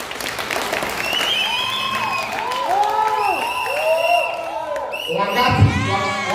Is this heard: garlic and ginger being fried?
no